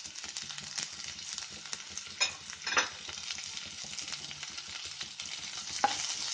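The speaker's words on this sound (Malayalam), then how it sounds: "സവാള ഇട്ട് കൊടുക്കാം." Onions frying in a pan for a cauliflower gravy, a steady close sizzle with occasional scrapes and stirring knocks throughout, no talk.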